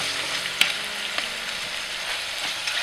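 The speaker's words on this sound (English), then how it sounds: "You want to stir this until the herbs are slightly wilted and the tomatoes are tender." Tomatoes and herbs sizzle steadily in a frying pan while being stirred, the close, continuous hiss broken by a few sharp clicks of the utensil against the pan.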